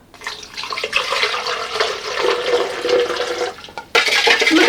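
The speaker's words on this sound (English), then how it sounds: "Cold water." Cold water pours steadily from a tap into a container for mixing Lipton iced tea powder, a continuous close hiss and splash that cuts briefly near the end before resuming.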